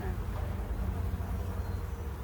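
Honey bees swarm densely over a hive frame, a steady close buzzing hum that fills the whole moment without pause.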